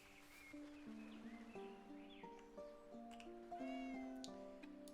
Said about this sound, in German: Die Katze freut sich auch.